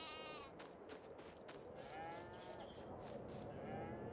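Sheep bleat in Farming Simulator 22, several overlapping, wavering calls over steady farmyard game ambience, moderately close and continuous.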